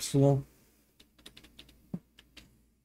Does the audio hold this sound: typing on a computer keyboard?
yes